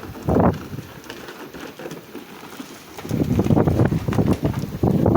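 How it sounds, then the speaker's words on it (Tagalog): Steady rain hisses and patters, swelling louder in gusts with wind buffeting the microphone; no voices. "Ulan yan, o. Ulan mismo."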